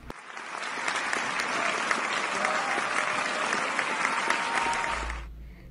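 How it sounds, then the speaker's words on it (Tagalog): Sustained applause from an audience at a student's storytelling segment in a radio drama anthology, steady and dense for about five seconds before stopping abruptly. "Palakpak para kay Rosmar."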